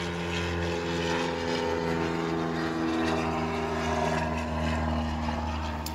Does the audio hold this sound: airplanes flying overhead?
yes